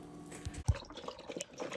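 A dog laps water from a bowl in a home, with a few wet slurps and splashes near the microphone.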